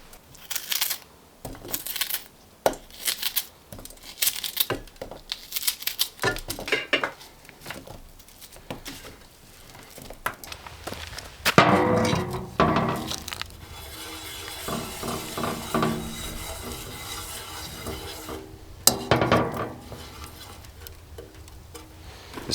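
Knife slicing fat off a raw steak at a wilderness camp, with irregular clicks and scrapes of the blade on a board and utensils, some louder clattering knocks, no talk.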